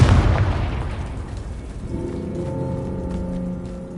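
A Confringo spell detonates in Hogwarts Legacy with a heavy, loud boom that rumbles and fades into a lingering, ringing decay with crackling debris.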